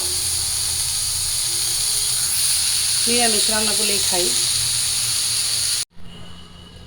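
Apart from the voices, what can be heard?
oil sizzling with bay leaf and cumin in a wok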